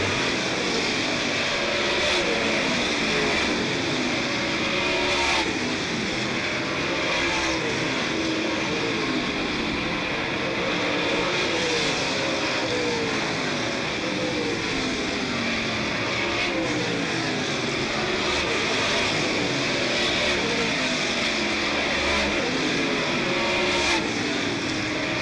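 Super Late Model race cars roar around the Smoky Mountain Raceway oval in a steady, continuous engine drone that rises and falls slightly as the pack passes, with no talk over it.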